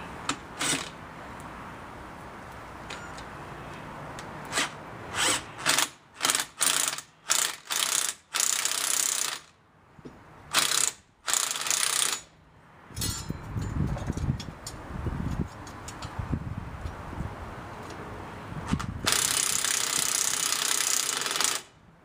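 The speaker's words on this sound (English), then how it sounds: "the way to do that is to tighten up on the socket a little bit." A ratchet wrench tightens a socket during a hub bearing replacement, giving quick bursts of close, sharp clicking separated by short pauses, followed by longer stretches of clicking and some metallic handling noise, with nobody talking.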